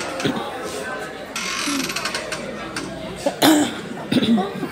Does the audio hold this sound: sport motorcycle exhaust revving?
no